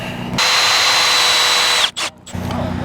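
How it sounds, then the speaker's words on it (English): A power drill whirs loudly at high speed for about a second and a half, winds down, then gives a brief second burst before stopping, drilling screw holes to reattach an RV slide topper. "So let me drill a few more holes."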